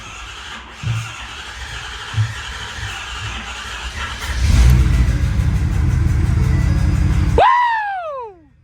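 A Ford F450 diesel engine after a DCR conversion cranks over with a few soft pulses, then catches and roars to a loud steady run, ending with a falling whine as it cuts off.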